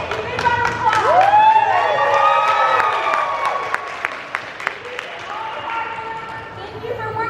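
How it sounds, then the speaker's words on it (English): A convention crowd claps and cheers in a steady wash of applause, with a voice carrying over the noise throughout. "Big round of applause"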